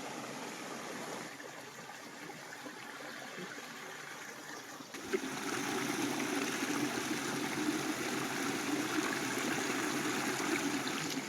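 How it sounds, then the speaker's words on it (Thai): Water flowing steadily in a forest stream, a continuous close rushing and gurgling that grows fuller and louder partway through, with no voices. "ได้ยินเสียงน้ำไหลธรรมชาติ"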